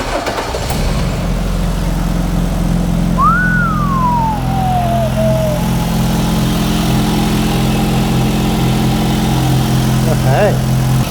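A Mk2 Ford Escort's Galaxy engine churns and catches, then settles into a steady running drone, with a brief rising whine from a noisy fuel pump partway through and faint voices.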